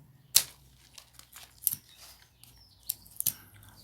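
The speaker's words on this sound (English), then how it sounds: "if you're cutting them with scissors, make sure you make nice clean cuts" A few sharp snips of scissors cutting tomato plant branches, spaced irregularly, with faint rustling of leaves in between.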